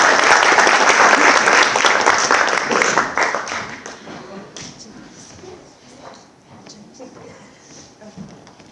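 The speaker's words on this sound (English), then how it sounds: "let's continue to give Gretchen some applause." An awards ceremony audience applauds as a honoree walks up, sustained loud clapping that gradually thins and fades to scattered claps and crowd murmur.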